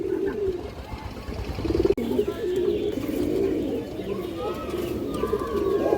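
A pair of large, old-line Maxi pigeons coo steadily and close by, their soft throaty calls rolling on throughout with faint background rustle and noise.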